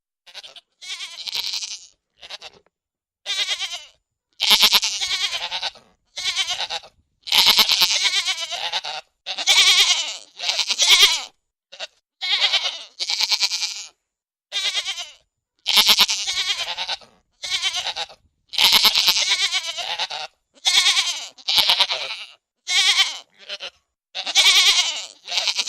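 A herd of goats bleats again and again in loud, separate calls, some overlapping, with brief gaps between them and nothing else heard.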